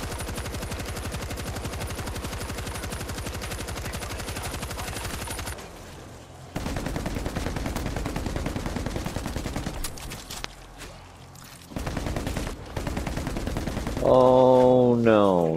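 Rapid automatic gunfire rattles in World War Z: Aftermath on PS5, long sustained bursts broken by brief pauses, loud and close, ending with a rising electronic tone.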